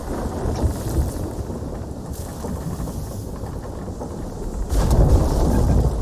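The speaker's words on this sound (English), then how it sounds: "Lightning strike on deck!" Thunder cracks and rumbles over a ship deck during a storm in the Sea of Thieves game, with rain and wind roaring throughout and a louder burst of thunder near the end.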